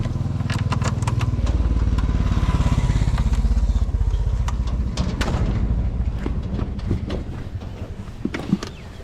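A motorcycle ridden on a rainy route toward Kulekhani, its engine rumbling loud and close with a throbbing low note, rattling and clattering as it moves, no talk heard.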